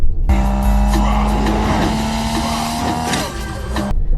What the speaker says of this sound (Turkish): Yok gayet normal arabamı kullanıyorum.